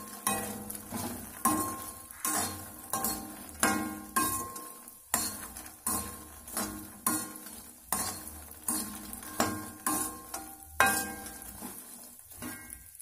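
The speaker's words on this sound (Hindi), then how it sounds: "मखाने हमारे अच्छे से भून चुके हैं और इन्हें हम निकाल लेंगे एक प्लेट में।" Fox nuts (makhana) roasting in a pan, stirred steadily with a spoon, giving a rhythmic series of scraping strokes and light clinks about once a second over a soft sizzle, close and fairly quiet.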